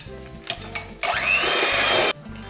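Cheesecake filling with vanilla extract and food colouring mixed by an electric mixer: a few faint clatters, then a loud steady whirring burst for about a second that cuts off abruptly.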